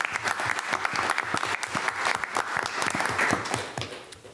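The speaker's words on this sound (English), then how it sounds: "How about a round of applause for them as well?" Dense, steady applause from a sizable crowd at a board meeting fills the room, clapping continuously at even loudness before tapering slightly at the end.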